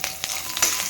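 Peanuts and cashews fry together in a pan for an evening snack, giving a steady close sizzle with a few brief louder crackles. No one speaks.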